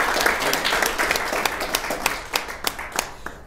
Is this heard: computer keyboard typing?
no